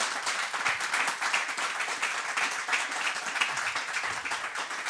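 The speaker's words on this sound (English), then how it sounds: "Can we give a big round of applause to Emily Browning for being here with us today?" A studio audience applauds a guest on an Australian talk show, a steady wash of many hands clapping, moderately distant and fairly soft, continuous for the whole stretch with no talking over it.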